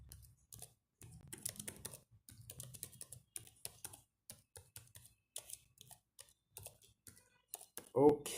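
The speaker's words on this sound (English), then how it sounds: "I've typed what I want to type. I use one hand to type." Someone types on a keyboard with one hand, giving sparse, uneven clusters of soft key clicks with gaps between them. The sound is close and quiet, and a voice speaks in places.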